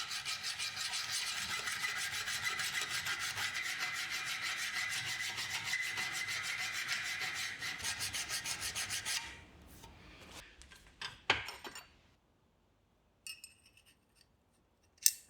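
Hand tools work the inside of a metal divider joint where the two halves meet: a steady rhythmic rasping scrape for about nine seconds, then a few scattered scrapes and clicks before near silence and a final tap.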